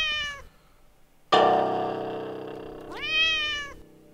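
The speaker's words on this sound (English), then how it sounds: "it just makes me go meow meow" A cat meows in the video game The Cat Lady: one bright rising meow at the start, a sustained tone in between, then a second drawn-out meow near the end, clear and close with no talking.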